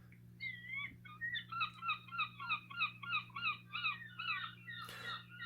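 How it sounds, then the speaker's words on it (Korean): Repeated seagull cries from a mobile app's built-in sound effect, a rapid series of bright, nasal calls that run steadily for about five seconds over a low constant hum, loud and close with no talking. "갈매기 울음소리 음향 효과가 나죠"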